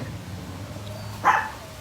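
One short, sharp dog bark rings out at moderate distance over a quiet indoor background with low hum.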